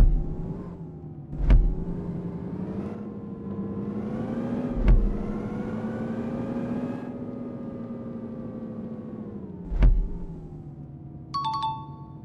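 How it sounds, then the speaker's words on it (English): A bus engine in the Indian Bus Simulator video game idles with a steady synthetic drone, rising and falling in pitch as it accelerates, broken by three sharp clicks and ending with a short electronic beep. "Now turn on the engine. Now accelerate towards the marker and stop inside it."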